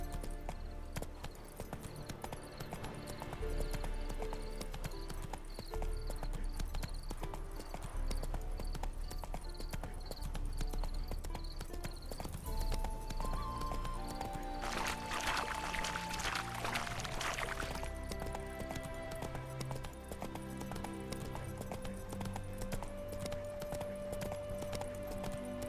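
Geralt's horse Roach gallops in The Witcher 3, quick rhythmic hoof clip-clops running steadily beneath a music score, with a brief burst of rushing noise midway.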